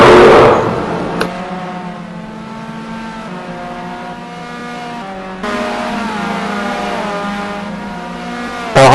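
Race car lapping a circuit at Magny-Cours during a CCS 2012 round, its engine holding a loud steady note that rises and falls through a tricky corner where the car tends to slide, with a sharper burst near the end.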